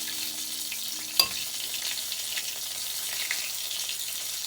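Chicken of the Woods mushrooms dredged in egg and flour fry in hot oil with a steady, close sizzle, broken by one sharp clink partway through.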